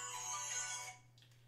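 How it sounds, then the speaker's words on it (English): A phone ringtone trills loudly in a bright, busy electronic burst for about a second over a steady low hum, then cuts off, leaving faint background noise and no talking. "Excuse me while I take this phone call."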